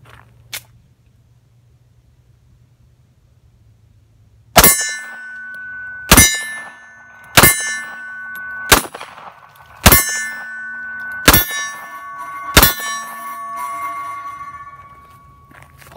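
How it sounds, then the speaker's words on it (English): Seven .45 ACP pistol rounds, Federal Aluminum ammunition fired from a 1911 with a seven-round magazine, strike steel plates. Each loud shot ends in a sharp metallic clang with a short ringing tail, spaced about a second and a half apart after a quiet start. "7-round mag first, I'll shoot this one at the plates."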